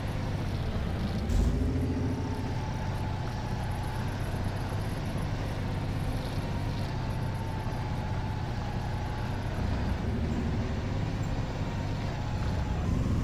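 A truck with an empty log trailer drives in Spintires, its engine giving off a steady low rumble that stays constant and close for the whole stretch, with no talking.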